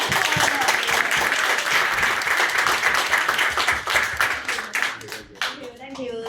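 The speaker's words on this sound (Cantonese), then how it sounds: "我哋再一次掌聲" An audience claps in a steady, dense round of applause that gradually thins and fades toward the end, with a voice speaking over the last moments.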